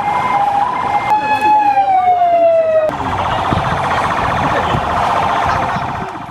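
Ambulance sirens wail loudly at a tense scene where students are collected for hospital transport, a descending tone shifting into a continuous warbling siren with crowd noise underneath.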